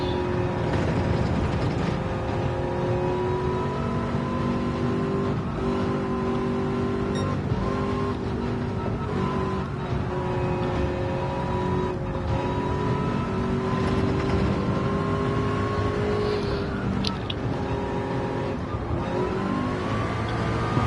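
A race car engine holds a high, sustained pitch in 6th gear through the Le Mans circuit in a VR racing game, with slight rises and dips in revs and a steady, loud drone.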